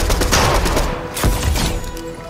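Explosive sniper rifle shots in Fortnite Battle Royale, loud and close, with dense overlapping gunfire and blasts filling the whole stretch, one sharp crack standing out near the middle.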